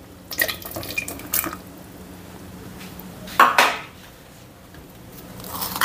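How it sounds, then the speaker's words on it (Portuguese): Cassava, potatoes and carrots going into a cooking pot make a few clattering knocks and splashy thuds, with a louder clunk of pot and utensil midway, close by and without talk. "Agora eu vou adicionar aqui os legumes."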